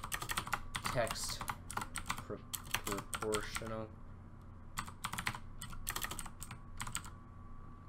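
Computer keyboard typing while writing a Lua script for a FiveM speedometer, heard as quick bursts of keystrokes separated by short pauses, with a voice speaking now and then.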